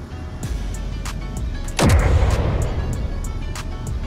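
A Gatling gun firing in Space Engineers: a sharp low boom with a long ringing tail, preceded by faint steady background rumble and a few light clicks, loud and close with no talking.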